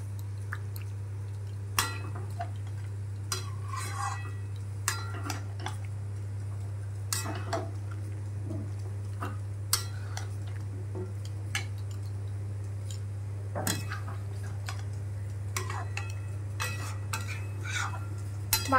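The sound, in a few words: stirring and mixing vegetables in a pot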